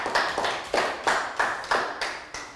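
A small classroom group claps in a steady rhythm, about seven sharp, evenly spaced beats in unison, close and fairly loud, with no talking.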